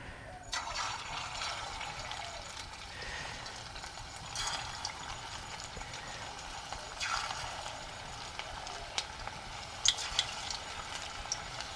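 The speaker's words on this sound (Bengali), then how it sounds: "গরম হয়ে গেছে তেলটা এবার আমি ছোট ছোট বড়ার মতো করে ছেড়ে দেবো" Small banana flower fritters sizzle in hot white oil in a karahi, a steady frying hiss with occasional louder bursts and light stirring, and no voices.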